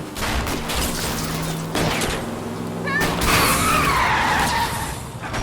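A car skids and spins out during an L.A. Noire chase, with screeching tire squeal rising over engine noise and a faint voice briefly in the mix.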